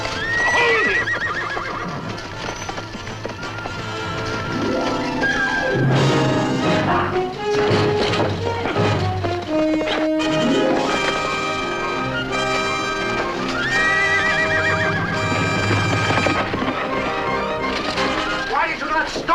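A horse neighs and whinnies in a colorized 1957 Zorro episode, shrill cries rising over a dramatic orchestral score, with hoof clatter and crashes as it breaks free and gallops off amid shouting voices.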